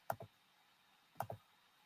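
A few soft clicks from a laptop's built-in keyboard, two small pairs of taps about a second apart, faint and close in a quiet room.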